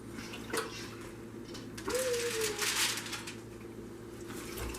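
Warm water splashes and fills a container of thawing fish, a soft rushing pour swelling for a couple of seconds amid faint background noise and small squeaks.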